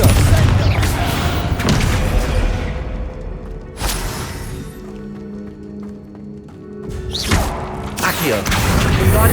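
Confringo fire spell blasts in the game Hogwarts Legacy, a few heavy booming impacts spaced seconds apart over rumbling in-game ambience, with a spoken voice partly underneath.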